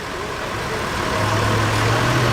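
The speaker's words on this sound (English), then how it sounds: "The Alfa Romeo Montreal is also fired up." An Alfa Romeo Montreal V8 idles steadily at a classic car gathering on Boxing Day, a low continuous engine rumble that holds close and fairly loud with a slight rise near the end.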